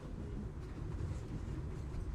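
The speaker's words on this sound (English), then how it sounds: "The sound of the train itself is a little bit dampened in here from all of the curtains that hang in here." A moving train heard from inside a curtained train car fitted out as a black box theater, a steady, muffled low rumble with faint rattling, continuous and fairly quiet.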